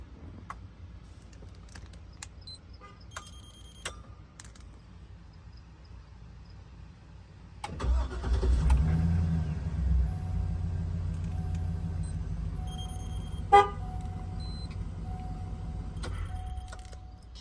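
An older AstroStart key fob remote-starts a car engine: after a quiet stretch the engine turns over and settles into a low, steady nearby rumble, with a few small clicks.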